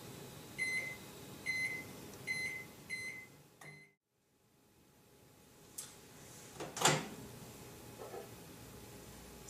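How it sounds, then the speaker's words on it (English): Microwave oven warming coconut butter and soap base: four short, bright beeps in a row, then a pause and a quiet clunk of the door, with faint handling knocks afterward. "So let's pop that in the microwave for 20-30 seconds"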